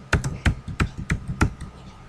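A password is typed on a computer keyboard: about seven close, distinct key taps in a steady, slightly uneven rhythm over faint room noise.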